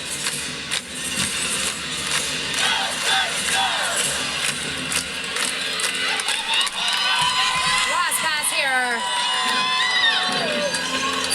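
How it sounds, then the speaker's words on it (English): An arena crowd at a women's college gymnastics meet between Air Force and Clemson cheers and claps along in a steady, dense roar. Individual shouts rise toward the end, and an announcer's voice carries over the noise. "Getting the crowd engaged and involved, clapping along with her as she gears up for her last and final pass."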